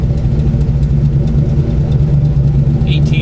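Chevelle SS V8 fitted with an Alien intake manifold holds a steady rev around 4,000 RPM, a loud continuous engine roar that fills the whole clip without easing off.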